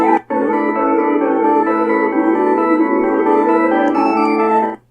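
The Earthbound name-screen tune plays loud and steady for about four seconds after a brief opening note, then stops abruptly.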